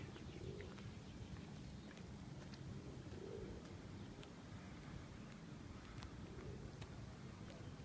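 Pigeons coo softly on a street, low murmuring calls repeating at intervals over steady outdoor background noise.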